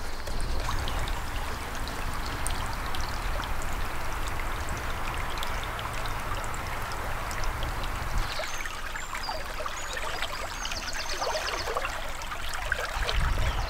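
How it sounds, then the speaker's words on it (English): The River Mole flows and babbles steadily at Sidlow, a constant close rushing with no pauses, and no voices. "This is the River Mole, going through Sidlow, the lovely River Mole"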